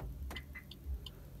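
The keyless remote on a Maruti Suzuki Ertiga CNG unlocks the car with short, high electronic chirps from the vehicle, close by and fairly quiet against a steady low background hum.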